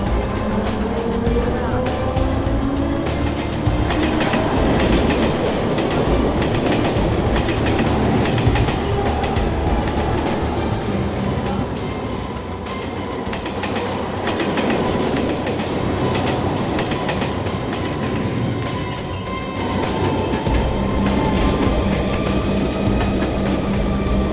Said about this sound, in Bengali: 1 নম্বর প্ল্যাটফর্মে থ্রু ট্রেন আসতে চলেছে